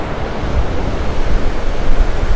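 Ocean waves wash onto the beach at Mustang Island on the Gulf Coast, a steady, loud rushing surf mixed with wind buffeting the microphone, with no talking.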